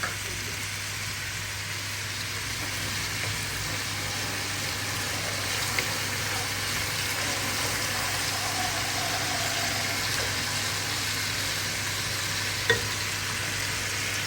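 Bean sprouts and cabbage sauté with chicken in a pan, a steady broad sizzle that runs without a break over a low background hum, with one or two faint clinks of a utensil.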